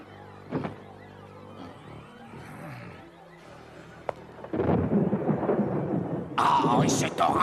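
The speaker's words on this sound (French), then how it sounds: "Ah, et cet orage qui n'en finit pas." Thunderstorm with a low rumble and a sharp crack early on, then a heavy rush of rain and wind swelling loud in the final seconds.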